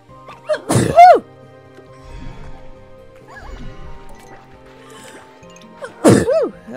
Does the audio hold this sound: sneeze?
yes